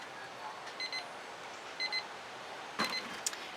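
Timer alarm going off in a quiet room during an acrylic paint pouring session, a few short high electronic beeps in spaced bursts over low background hiss.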